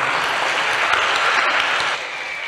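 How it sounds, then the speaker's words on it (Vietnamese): Steady applause from a seated audience at a Buddhist monastery talk, many hands clapping densely and evenly for about two seconds before thinning slightly at the end, with no voices over it. "Tặng cho chúng ba tràng pháo tay đi."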